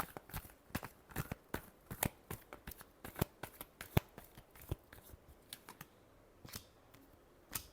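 Tarot cards being shuffled by hand, a rapid series of crisp, close riffling snaps and flicks in uneven bursts, with no voices.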